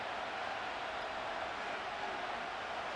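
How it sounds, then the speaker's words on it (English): Steady stadium crowd roar from the Madden NFL 25 football video game, a continuous broadband wash of distant cheering and murmur holding level throughout, with no distinct voices standing out. "This crowd doing all they can."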